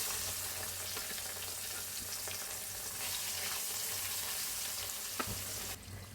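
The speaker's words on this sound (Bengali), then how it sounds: "আমার তেলটা গরম হয়ে গেছে, এখন আমি মাছটা ভাজা করব।" Rohu fish frying in hot oil in a rustic village kitchen, a steady, close sizzle and crackle running throughout with a brief sharp pop near the end, no talking.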